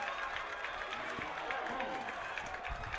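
At a spring college football game, the stadium crowd roars and claps in a steady, broad swell of cheering after a leap over a defender, with a commentator talking over it.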